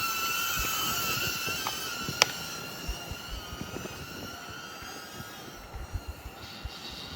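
A small HOVERAir camera drone flies close by, giving off a steady high-pitched motor whine with layered tones over a rough, windy rumble, holding level throughout with a few soft bumps and no one speaking.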